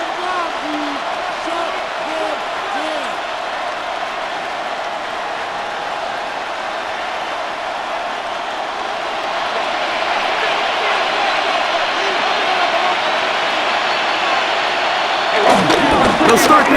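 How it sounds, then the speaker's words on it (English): Steady stadium crowd roar from the Madden NFL 26 video game during a Pittsburgh Steelers versus Indianapolis Colts matchup, a dense continuous wash of voices that swells louder in the second half and peaks near the end. "And they're going to hear it from this crowd."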